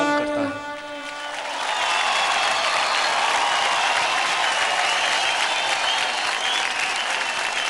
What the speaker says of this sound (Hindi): जोरदार तालियां हो जाए सचिन के लिए